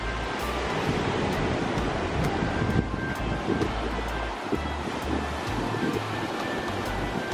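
Rough sea surf at Dover Beach on the island of Barbados roars steadily and loudly with a constant wash of breaking waves and some wind buffeting the microphone, with no voices.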